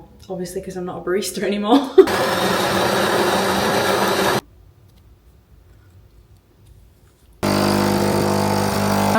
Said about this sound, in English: I'm really sorry for that noise the coffee machine is making.